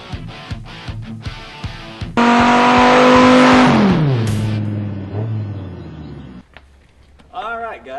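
A 1973 GMC Jimmy with a swapped 6.0 LS V8 cranks and catches at its first start-up, then roars loudly and revs before settling and cutting off, with brief talk nearby.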